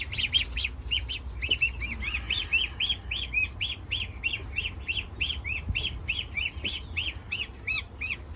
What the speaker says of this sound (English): Let's take a look at these very cute little goslings.